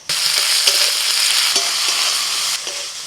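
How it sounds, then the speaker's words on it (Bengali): Chopped onion fries with bay leaf and dried red chilli as ginger-garlic paste goes into the pan, a steady loud sizzle broken by a few spoon scrapes and knocks while the mixture is stirred. "পেঁয়াজ ভাজা হয়ে গেছে, দিয়ে দিচ্ছি আদা রসুন বাটা।"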